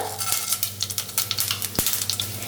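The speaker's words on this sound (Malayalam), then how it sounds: "ചൂടായ എണ്ണയിലേക്ക് 1/2 ടേബിൾ സ്പൂൺ കടുക് ചേർത്ത് കൊടുക്കാം" Mustard seeds and urad dal crackle and sputter in hot vegetable oil, a close, busy sizzle with scattered sharp pops and one louder crack partway through.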